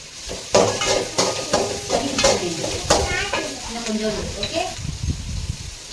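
Onions and tomatoes frying in a pan for a fish curry, a soft sizzle with repeated scraping and stirring strokes from a spoon against the pot, close by, with a voice talking over it.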